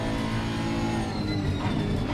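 Honda NSX EVO GT3 engine in Assetto Corsa Competizione, a steady, close, droning race-car engine note holding at high revs without a break.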